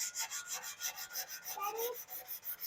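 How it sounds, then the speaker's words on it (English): Sandpaper rubs a rusty spot on a car bumper in quick, even back-and-forth strokes, about four per second. The rasping is close and fairly faint. "we're going to take sandpaper"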